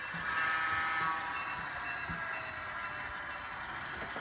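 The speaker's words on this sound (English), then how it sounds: "this passenger train is making a station stop" An HO scale model train rumbles steadily along the track, a continuous mechanical whir with faint clicks, fairly quiet and without voices.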